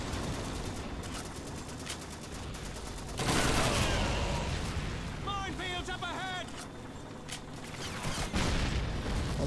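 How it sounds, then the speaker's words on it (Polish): Gunfire in the Call of Duty 2 video game, aimed at the player's Soviet soldier in a desert setting: a loud burst of shots with explosive booms in the middle, alongside shouting and game chatter. "Czemu zawsze do mnie strzelają?"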